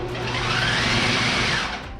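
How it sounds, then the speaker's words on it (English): A blender pulsing red onion and bacon jam, whirring steadily at high speed for a couple of seconds before easing off, close and loud, with no voices. "So I pop it into the blender to pulse a few times."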